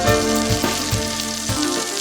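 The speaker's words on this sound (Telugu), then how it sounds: "ఉల్లిపాయలు వేగాయి కదా?" Onion pieces fry in oil with cumin, cinnamon and cardamom for a Telangana tripe curry, producing a loud, close, dense crackling sizzle with a few stirring pulses, no voices.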